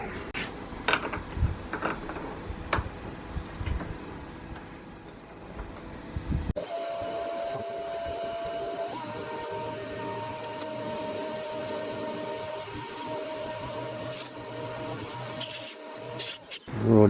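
Lathe boring out a steel shaft to 12.4 mm, a few clanks and taps at first, then a steady machine hum and whine with faint cutting noise running to the end.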